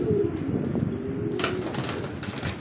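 White Lotan pigeons in a cage, close soft cooing and shuffling, followed by a brief burst of flapping or rustling near the end.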